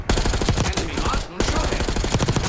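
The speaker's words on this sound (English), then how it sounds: "Enemy marksman shot him." Loud rapid gunfire from Call of Duty: Black Ops 6, dense automatic bursts filling the whole short stretch, with one brief gap near the middle.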